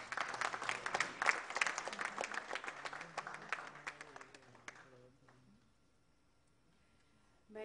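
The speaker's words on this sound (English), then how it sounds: "A round of applause, please" Audience applause at an education summit inaugural session, a dense burst of clapping for about five seconds that then fades away into near silence.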